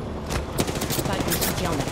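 Rapid automatic gunfire in Apex Legends, a dense burst of loud close shots crackling continuously for about two seconds with a busy game mix underneath.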